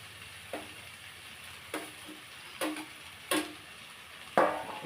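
Spice pastes go into a pan of large shrimp frying in oil. A faint steady sizzle runs under a few separate stirring clinks spaced about a second apart, with no talk.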